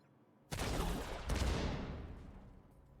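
An artillery turret in The Division 2 fires two heavy booming shots about a second apart, each with a long rolling tail that fades out.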